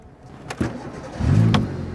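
A car engine cranks and catches, with a short starter burst followed by a rising low rumble as it turns over, fairly close with some background noise.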